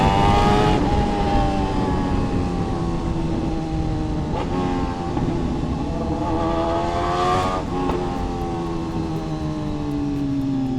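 A BMW S1000RR motorcycle engine drones while riding, close and loud, its pitch climbing and dropping through gear changes with brief dips between pulls, over steady wind rush.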